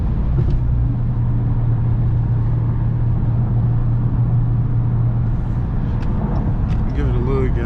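2020 Dodge Scatpack 392 with a 392 engine driving in the rain, giving a constant low engine drone and road roar from inside the car, with someone talking over it.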